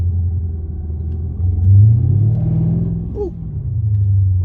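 A Mercedes CL550 drives along a winding mountain road, its low engine rumble swelling briefly as the throttle opens, then settling back into a steady, close cabin drone.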